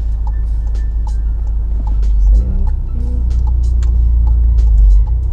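A manual car drives with a low engine hum while shifting gears, the engine note dipping and rising between changes, close and steady under intermittent talk.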